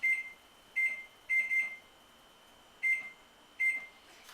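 A kitchen timer on a pot of lentil stew beeps repeatedly in short, bright, close-up bursts, some single and some doubled, separated by irregular pauses. A faint background hum sits underneath, with no talking.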